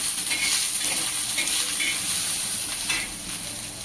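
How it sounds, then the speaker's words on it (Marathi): Onion fries in a little oil until reddish for a Marathwada-style umbar handi, producing a continuous hissing sizzle at moderate loudness with brief swells as it is stirred. "कांद्याला पण थोडंसं तेल घालते आणि लालसर रंग येऊपर्यंत भाजून घेऊया"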